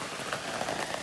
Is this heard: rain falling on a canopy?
yes